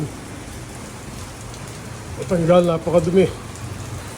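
Steady rain hisses throughout, with a person briefly speaking over it partway through.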